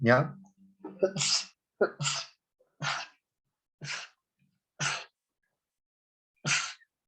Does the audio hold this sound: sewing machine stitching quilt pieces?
no